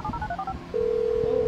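Phone dialing in GTA 5 plays a quick run of short keypad beeps, then a steady unbroken tone that holds to the end, clear and close with nothing else over it.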